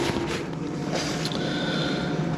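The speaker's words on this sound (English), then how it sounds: "Look how much air it's blowing in there right now into the swag to push it out." EcoFlow Wave portable air conditioner blowing air into a swag tent while camping, a steady broadband rush of airflow with a constant fan hum, close and continuous for the whole stretch.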